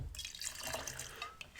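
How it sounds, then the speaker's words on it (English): Gin being poured into a Singapore Sling cocktail, a brief faint trickle of liquid splashing into a glass, quiet and close, lasting under two seconds. "I'm going to do 2 full ounces of gin"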